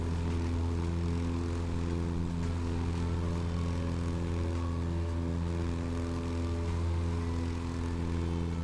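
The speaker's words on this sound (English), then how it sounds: "Nice flyby, Oshev." A propeller aircraft drones through a low pass in a flight simulator game, a steady loud engine hum with layered tones that holds throughout with no break.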